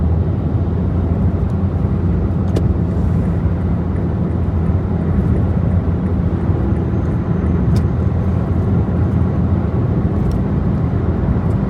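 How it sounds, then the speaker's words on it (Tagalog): Steady, loud roar of passing vehicles on a New Zealand motorway with no stoplights, tyre and engine noise blending into a continuous wash, recorded close and without voices. "Ito pala yung motorway. Wala ditong stoplight."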